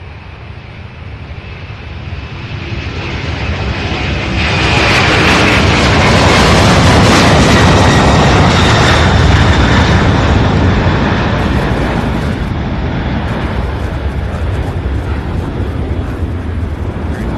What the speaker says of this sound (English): I hear that MD-11 spooling up